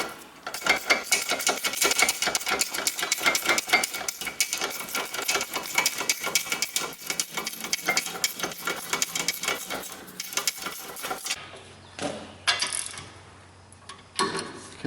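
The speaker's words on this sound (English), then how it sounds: "so now we're just tightening the bolts" A ratchet tightens the brake caliper bolts on a 2006 Mercedes-Benz E350 W211 with a fast, steady run of clicks. Further apart metallic clicks and clanks follow at the end.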